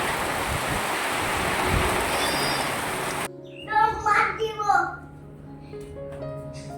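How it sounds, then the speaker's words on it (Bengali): Heavy rain driven by strong wind makes a loud, steady hiss for about three seconds, then cuts off as a voice starts talking over a much quieter background. "বৃষ্টি শুরু হয়ে গেছে।"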